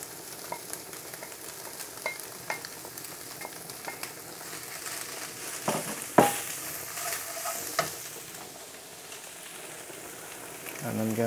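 Vegetables for chicken chow mein stir-frying in a wok, a soft continuous sizzle broken by scraping and tossing clatters, with a sharper knock midway, fairly quiet and without talk.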